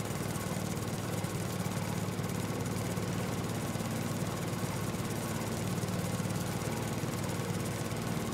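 A riding lawn mower engine runs steadily and close by throughout, a continuous droning hum with a broad noisy roar, heard alone with no talking.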